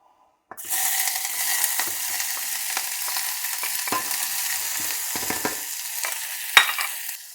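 Chicken katsu sizzles and fries in hot oil in a pan, a loud steady crackling hiss that starts abruptly and continues with occasional clinks and scrapes, close up.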